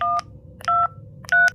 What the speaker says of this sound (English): With trembling hands, I grabbed my phone and dialed 911.